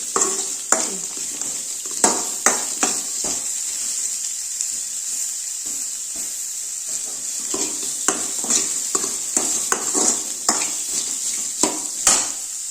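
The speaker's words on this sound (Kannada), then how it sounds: "ಎಣ್ಣೆ, ಬೆಳ್ಳುಳ್ಳಿ, ಶುಂಠಿ, ಚಕ್ಕೆ, ಲವಂಗ, ಈರುಳ್ಳಿ, ಸ್ವಲ್ಪ ಕಡಲೆ ಹಾಕ್ಕೊಂಡು ಹುರ್ಕೋತಾ ಇದ್ದೀನಿ." Garlic, ginger, cinnamon, cloves, onion and chickpeas frying in oil, a steady hiss punctuated by frequent spatula knocks and scrapes against the pan, close and alone.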